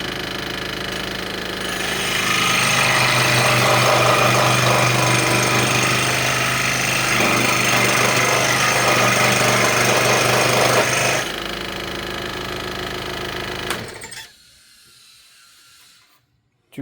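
A power sander grinds on a wooden charcuterie board, a loud steady whirring rasp that swells after a couple of seconds, holds, then cuts off abruptly and winds down into near silence.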